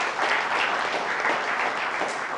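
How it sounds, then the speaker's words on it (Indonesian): Steady, loud applause from a studio audience on a televised Indonesian debate talk show, welcoming the panelists; continuous clapping throughout with no voices over it. "tepuk tangan buat panelis kita"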